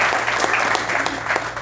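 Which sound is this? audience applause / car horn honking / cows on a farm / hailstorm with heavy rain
audience applause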